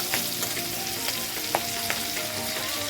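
Tangra fish curry sizzles steadily in a pan right after chopped green chillies go in, a dense continuous frying hiss broken by a few soft stirring clicks and spits.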